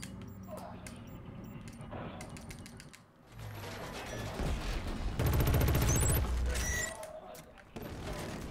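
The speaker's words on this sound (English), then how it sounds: "I don't know where any of these bullets are coming from." Gunfire in Killzone Shadow Fall multiplayer, rapid mechanical bursts of automatic shots with rattling clicks, growing loudest in a sustained volley near the end, with a player's voice talking over the action.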